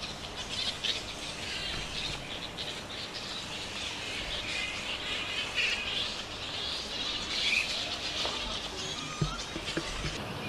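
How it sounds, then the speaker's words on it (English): An Australian flying fox bat colony calling, a dense continuous chorus of shrill squawks and chatter with occasional flapping, moderately distant and fairly faint. "Anyone who goes anywhere near a flying fox colony, one of the first things they notice, of course, is the noise."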